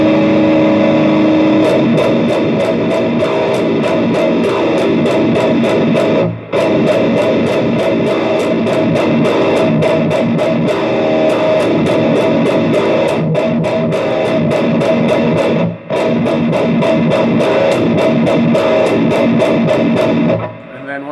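Deathcore guitar riff with heavy distortion slowing down over drums, with kick-tom hits and ride bell strikes, loud and dense with brief gaps, alone without talk.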